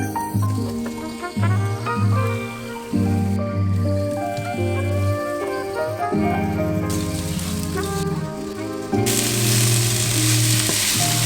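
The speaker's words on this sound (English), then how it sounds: "We don't have to overcook the vegetables, we just have to do it like a stir fry" Vegetables stir-frying in a pan with spices such as cumin seeds, as steady sizzling under a loud tonal background, with a brighter burst of hiss toward the end.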